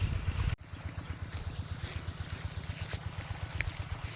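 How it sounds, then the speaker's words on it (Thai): Pumped water released onto a dry watermelon field, a steady rushing, trickling flow with a low throbbing pump pulse beneath, heard close and continuous after a brief knock at the start. "เราปล่อยน้ำลง แบบนี้"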